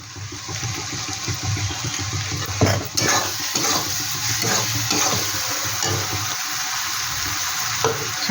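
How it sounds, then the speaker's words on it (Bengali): Coconut chicken with turmeric sizzles and fries steadily in a pan while a utensil stirs through it, scraping and clinking close by with continuous crackle and no talking. "এবার ভালো করে একটু নেড়ে নেব।"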